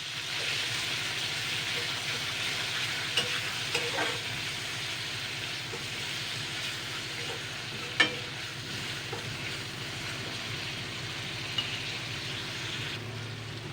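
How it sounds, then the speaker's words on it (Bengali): Ground onion paste fries in a pan with a steady, even hiss, broken now and then by a soft spatula knock, with one sharper clack near the middle, close and without talk. "পেঁয়াজ বাটা দিয়ে দিচ্ছি। পেঁয়াজটাকে আগে 2-3 মিনিট ভেজে নেব।"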